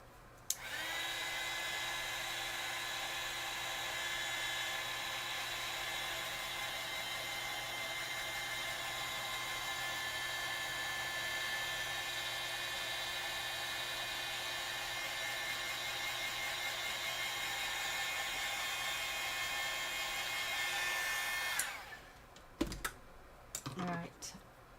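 A hair dryer blows steadily on a watercolor painting, a loud continuous whir lasting about twenty seconds before it cuts off, followed by a few clicks and handling sounds.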